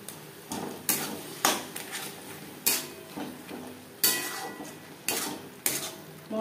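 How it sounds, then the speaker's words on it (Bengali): Chicken pieces tossed with fried spices in a pan for chicken ghugni give off a run of separate scraping, clinking stirs about every half second, with a soft sizzle underneath and no talking. "চিকেন বেশ ভালো করে মিক্স করে দেবো।"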